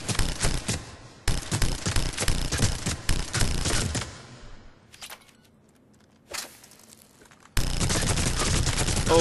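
Hurricane submachine gun firing full-auto in Mass Effect 3 with a scope at point-blank range, loud rapid bursts with short gaps, one quieter lull in the middle, then a final burst, no talking.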